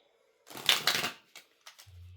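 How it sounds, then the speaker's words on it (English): Deck of tarot cards being shuffled by hand, a close, brisk riffle of rustling and flicking lasting about half a second, followed by a few light taps and a faint low hum. "Let me shuffle this again."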